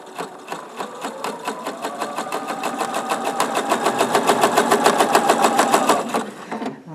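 A sewing machine runs steadily for about six seconds, stitching a quilt piece at a 1/4 inch seam. It makes a fast, even mechanical whir that builds slightly before stopping abruptly.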